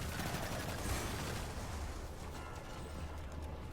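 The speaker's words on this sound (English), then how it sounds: "Watch out for the exploding shanks in this room." Exploding shank enemies blow up amid rumbling blasts and gunfire in a Destiny 2 lost sector, a dense, continuous wash of explosions and shots that eases slightly toward the end.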